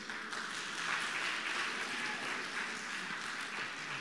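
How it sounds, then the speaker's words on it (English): Hospital staff applaud at the official opening of a new hospital campus, a dense, continuous round of clapping from a crowd that holds steady for several seconds. "I see the ERHA staff clapping."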